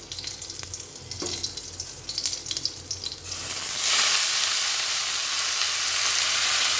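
Leafy greens dropped into a hot pan for a vegetarian soybean and potato curry: faint clatter and light sizzle at first, then a loud, steady hiss of frying steam takes over, with no talking.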